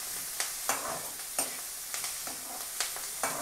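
Sliced onions fry in a pan for chutney, a continuous soft sizzle punctuated by a series of sharp scraping taps from stirring at irregular intervals.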